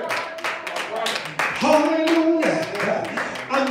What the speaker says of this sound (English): Clap those hands and give God some praise.